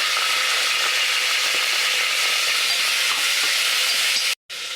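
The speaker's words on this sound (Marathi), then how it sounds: "आता परतू घेऊ आपण कांदा" Onion frying in a pan with whole spices like cloves, peppercorns, cinnamon and cardamom, a steady loud sizzle with occasional spatula scrapes, close up, cut briefly to silence near the end.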